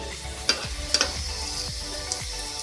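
Onions and whole round chillies, browned, fry in a pan with a soft continuous sizzle, broken by a few sharp clinks and scrapes of a stirring spoon against the metal.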